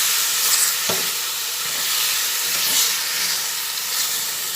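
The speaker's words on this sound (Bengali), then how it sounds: "মাছটা কড়াইয়ের মধ্যে ঢেলে দিলাম মাছটা ঢেলে দেওয়ার পরে মাছটা আস্তে আস্তে করে আমি নাড়াচাড়া করে নিচ্ছি" Lota fish (Bombay duck) fries in a hot wok with a loud, continuous hiss and sizzle, broken by a few soft scrapes as it is stirred slowly.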